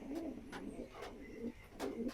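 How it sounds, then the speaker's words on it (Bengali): A male and female pigeon coo softly in a low, repeated rhythm, faint and close, with no talk. "এটা বাবা কবুতর হয়েছে এটা মেল কবুতর আর ফিমেলটা এখানে আছে"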